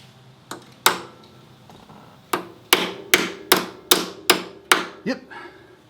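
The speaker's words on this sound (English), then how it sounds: "I'm going to get a hammer." A hammer strikes a pin on a Harley-Davidson Sportster Iron 1200 again and again, two early blows followed by a quick run of seven ringing metallic hits, close and loud with no talk.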